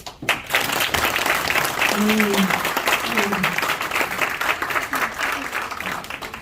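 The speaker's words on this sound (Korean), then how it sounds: "다시 한번 큰 박수 부탁드립니다" An audience at a charity evening for a cartoon exhibition claps in a broad, steady round of applause, with a few voices and murmurs faintly mixed under the clapping.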